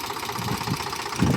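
A tractor engine chugs steadily in a farm field beside wheat, chickpea and standing millet crops. Its low, rhythmic idle knock stays close and continuous, swelling louder near the end.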